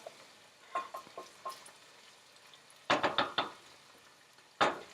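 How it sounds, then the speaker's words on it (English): Turkey bacon browns in a pan for split pea soup, with a faint sizzle under sharp clicks and scrapes from a stirring utensil, louder clusters of knocks arriving near the end. "I let the turkey bacon cook a little bit and brown a little bit"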